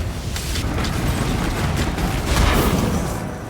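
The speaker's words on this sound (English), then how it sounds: "Dude, I love the explosions!" Loud, dense rumbling blasts from a video game battle roll on continuously with crackling bursts, swelling near the end; no talking.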